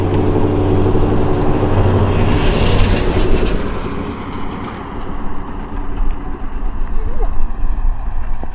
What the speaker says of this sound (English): Where's that UPS truck going?